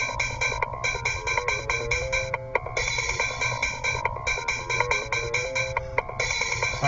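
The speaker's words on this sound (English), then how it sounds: "So I kind of have like a bass melody type of thing." A bass melody pattern programmed in FL Studio runs as a steady, looping electronic sequence of short repeated notes with a few brief dropouts, loud and continuous with no voice.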